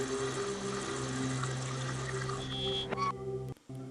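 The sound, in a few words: water canister being filled in a video game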